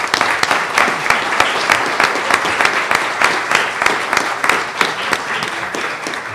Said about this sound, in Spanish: Un aplauso para Miguel Ángel González Martínez.